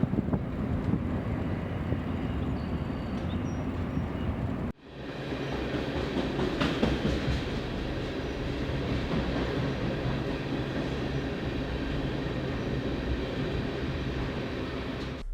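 A train rumbles along the rails at a distance in Phillipsburg, with a steady wash of wind noise over the microphone and a brief dip partway through.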